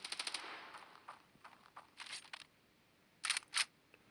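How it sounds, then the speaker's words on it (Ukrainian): A machine gun fires in the mobile shooter game Standoff 2, short sharp bursts of rapid shots, one quick volley at the start and two more near the end, heard close with quiet gaps between. "О, це такий кулемет"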